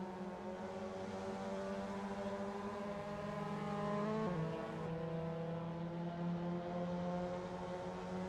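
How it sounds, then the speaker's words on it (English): A Mazda MX-5 race car engine in a racing video game drones at a steady, sustained pitch, the harmonic hum of racing cars audible throughout, with a brief shift in pitch midway as the engine note climbs. "I can hear the engine of Seb getting louder and louder"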